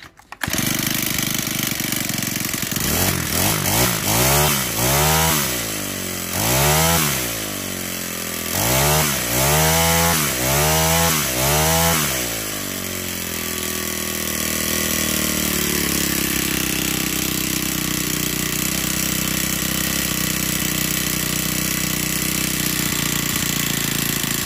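A repaired Honda GX25 small four-stroke engine, cover refitted, is pulled over and catches, revving up and down in several bursts before settling into a steady, loud continuous run with no talk.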